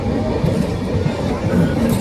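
A train at a station near Darjeeling, a loud steady low rumble of rolling wagons with faint clattering throughout and no clear talk.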